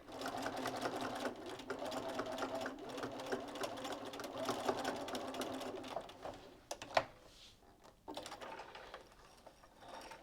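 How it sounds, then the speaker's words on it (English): A sewing machine stitches underwire channeling into a bustier seam, a fast, steady mechanical whir running for about six seconds, then brief pauses and clicks before a shorter run resumes, close and fairly quiet. "I'm gonna sew all the way to the end of that."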